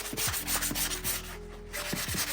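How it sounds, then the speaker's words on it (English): Sanding block rubbed by hand over a bedroom ceiling corner: close, continuous scratchy rasping in repeated back-and-forth strokes over a low steady hum. "For these corners, I take a sand block like this, and I just go like this."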